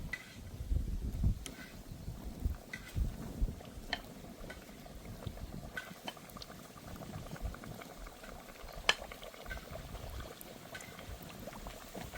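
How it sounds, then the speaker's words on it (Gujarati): Hot oil bubbles and crackles steadily as puris deep-fry, a soft continuous sizzle with occasional louder pops. "આપણે પૂરી તળવા લઈ લેવું."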